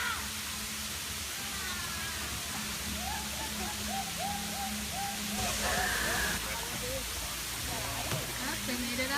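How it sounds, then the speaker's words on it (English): A waterfall at Kanchanaburi, Thailand gives a steady broadband rush of falling water throughout, with people talking and faint bird calls on top. "Heading towards the waterfall."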